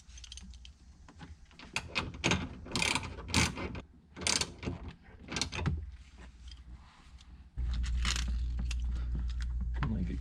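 A ratchet working the bottom seat belt bolt loose on a 2015-or-later Honda Fit (GK5), a series of quick close clicking bursts separated by short pauses.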